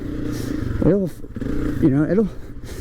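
A 2022 Honda CRF250F dirt bike engine rumbles and revs twice in quick rising surges on a rocky trail, close and fairly loud, with a rider talking over it.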